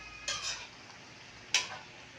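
A spoon stirs boiling coconut milk in a pot, two brief scraping strokes against the metal over a faint background bubble, close and quiet.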